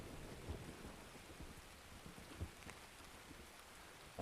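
Rain falling in a thunderstorm in Escape From Tarkov, a soft steady hiss with faint distant thunder thumps, quiet throughout.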